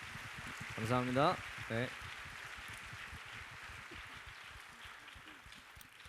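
An audience gives a soft, steady patter of clapping at a group gathering, honoring two people. A short spoken phrase comes at the start, then the applause continues evenly and fairly faint.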